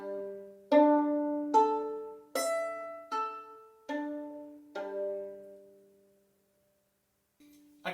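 Four violin strings plucked by finger, six separate pizzicato notes in a steady sequence, each a bright twang ringing and fading, then a short quiet gap before another faint note starts.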